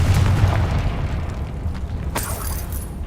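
A Confringo blasting spell explodes in the video game Hogwarts Legacy: a loud, deep rumbling boom fills the opening, then a sharp burst cracks out near the end over a continuing low roar.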